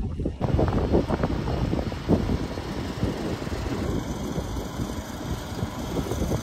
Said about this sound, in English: There's a wee touch of wind